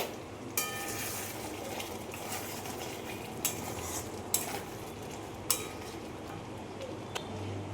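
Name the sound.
butter paneer simmering in pan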